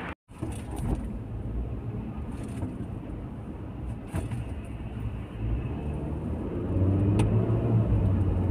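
A car engine at a Friday market in Fahaheel, Kuwait, catches after a brief cutout and then idles steadily to warm up, a close, even low rumble that rises slightly toward the end, with no talking.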